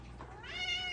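A cat gives a single short meow, quiet and close, rising then trailing off.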